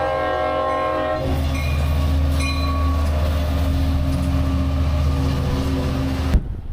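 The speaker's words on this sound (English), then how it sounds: "There's a train coming by." A train rumbles past close by for several seconds, a steady low roar with a horn-like tone, fading abruptly near the end.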